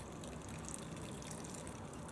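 Alcohol fuel pours steadily out of a Trangia alcohol stove as a continuous, even liquid trickle and splash, close and moderately quiet, with no talking.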